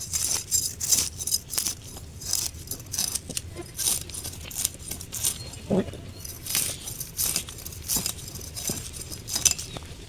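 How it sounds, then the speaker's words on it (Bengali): Fresh tilapia being scaled and cut for a curry, a run of sharp scraping clicks and light metallic clinks repeating irregularly at close range, without speech. "মাছের আঁশগুলো ছাড়ানো হয়ে গেছে"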